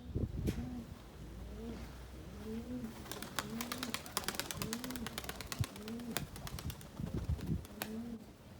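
Tumbler pigeons coo softly at a distance while wings clap in sharp bursts several times overhead as they tumble in flight, with occasional quiet chirps.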